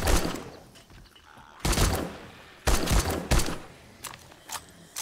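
Bursts of rapid gunfire in the video game 7 Days to Die during a horde night, several loud volleys separated by short pauses, with a few quieter single shots near the end.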